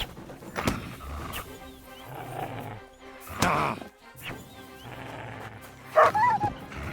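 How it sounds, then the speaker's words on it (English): A wild dog in Kingdom Come Deliverance 2 barks in several sharp, loud bursts spread across a few seconds, with game clatter and some voice in between. "Oh, wild dog."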